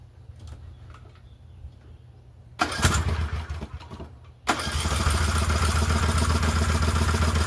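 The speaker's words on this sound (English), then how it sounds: "Let me go ahead and start it up." A Poulan 12538 riding mower fitted with a new carburetor cranks briefly, then its small engine catches and settles into a loud, steady running drone close by, with birds faint in the background.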